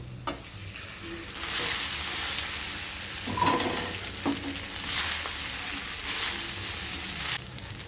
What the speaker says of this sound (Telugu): పోపులు పప్పులు ఎర్రగా వేపుకున్నాక అన్నం వేసుకొని కలుపుకోవాలి